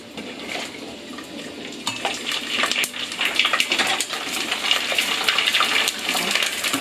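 Pork skin chicharon frying in bubbling oil gives a dense, steady crackle and hiss that swells after the first couple of seconds and keeps popping busily throughout.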